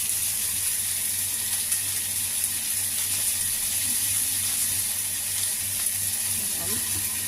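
Meat and sliced tomatoes sauté in a hot pan, a steady broad sizzle with light stirring scrapes throughout.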